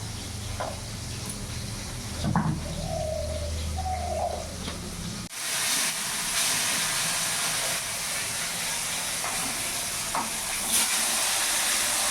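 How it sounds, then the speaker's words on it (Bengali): Electric mixer grinder blends ginger, garlic and green chillies with a splash of water into paste; after a quieter stretch with faint cooing birds, a loud steady whirring roar starts midway and runs to the end. "আদা রসুন ভালো করে মিক্সিতে আমি পেস্ট করে নেবো"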